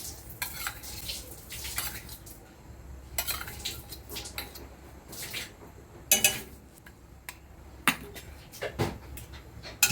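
Ghee going into a pan for a sweet modak filling, with clinks and scrapes of utensils against the pan and a few sharp metallic taps, fairly close and without talk.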